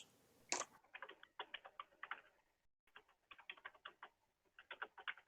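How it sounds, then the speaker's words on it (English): Someone types on a computer keyboard picked up over an open voice-chat microphone, producing quick bursts of close, light key clicks in irregular clusters separated by short pauses. "Whoever's typing, please turn off your microphone."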